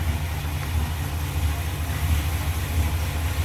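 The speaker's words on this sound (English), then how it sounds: "check that engine out running" A 1966 Cadillac DeVille convertible's 429 V8 with a new Edelbrock carburetor idles with its hood open, a steady low rumble close by with no talking over it.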